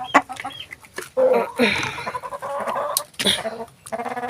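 Chickens in a poultry pen cluck and squawk close by in irregular bursts, with a person talking among them and some rustling.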